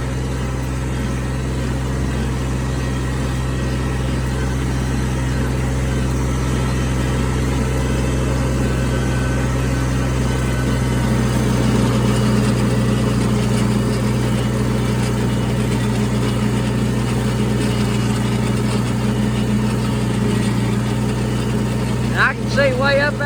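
A John Deere compact 750 tractor runs a bush hog mower with a steady, droning engine hum that stays constant throughout, close and continuous with little variation.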